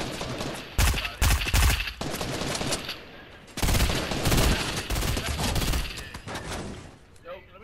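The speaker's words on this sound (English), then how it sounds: "I got somebody shooting at me" Video game gunfire crackles in several loud bursts of rapid automatic shots, with quieter stretches between volleys and faint background game noise.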